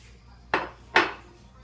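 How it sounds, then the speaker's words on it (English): A spoon knocks against a cooking pot twice while stirring thickening cream of mushroom soup, two close, sharp clinks about half a second apart over a quiet background. "Now I'm just going to stir this frequently and let it thicken up"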